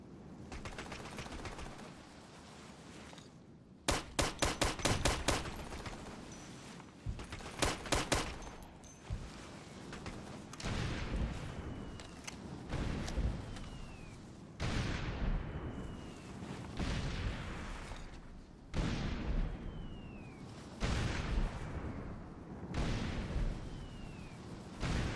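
Artillery fire mission in Operation Flashpoint: Dragon Rising, a rapid crackling fusillade of automatic gunfire followed by a series of heavy booming impacts and whistling incoming shells, loud and repeated every few seconds.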